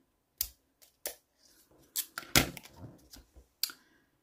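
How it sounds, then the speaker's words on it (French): Notched scissors snip through thick paper for scrapbooking, half a dozen short, crisp cuts at an uneven pace with quiet gaps between, close and fairly soft. "je vais tenter de réessayer ces ciseaux que j'ai déjà essayés"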